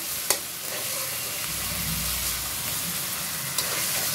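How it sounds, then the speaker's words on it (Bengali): Small hilsa fish heads fry with spices in a pan, giving a steady loud hissing sizzle with a couple of sharp stirring knocks, and faint music underneath. "মাথা দিয়ে দিলাম, কিছুক্ষণ কষিয়ে নিব মশলার সাথে।"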